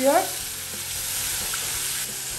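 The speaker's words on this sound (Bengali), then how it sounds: "এখন নাড়াচাড়া দিব 1 থেকে 2 মিনিট।" Bottle gourd lentil dal with salt is stirred in a hot pan, giving a steady close sizzle and frying hiss with a brief scrape at the start and no talking.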